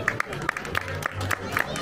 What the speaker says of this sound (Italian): Glielo fate un applauso